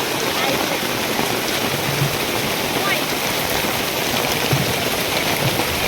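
Heavy rain pours steadily at Matheran hill station, a dense, continuous hiss of falling water that holds evenly loud throughout, with no talk over it.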